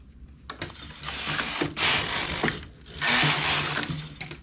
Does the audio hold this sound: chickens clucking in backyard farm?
no